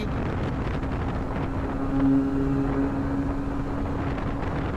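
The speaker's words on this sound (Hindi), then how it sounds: "सामने से हवा बहुत तेज आ रही है" A strong headwind roars steadily into the microphone while riding a 2025 Bajaj Avenger 160 Street motorcycle, a dense, unbroken low rumble with a faint engine drone briefly rising partway through.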